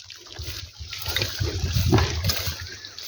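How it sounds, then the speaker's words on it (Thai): A fountain in a garden fish pond sends water splashing and gurgling in a steady, close wash of sound with small fluctuations, and no voices are heard. "นี่ก็มีน้ำพุ ตัวนี้ลดน้ำครับ"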